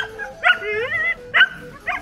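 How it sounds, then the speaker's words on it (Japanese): Husky sled dogs in a team barking and yipping excitedly before a sled run, several sharp close barks in quick bursts with whines between them. "もう出走準備をしているハスキーたちがいます。"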